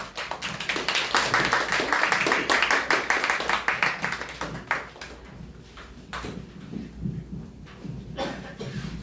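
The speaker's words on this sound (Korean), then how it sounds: "손뼉으로 맞이하겠습니다." An audience at an indoor cultural event claps to welcome a speaker, a burst of many hands that peaks early, then thins into scattered claps and fades.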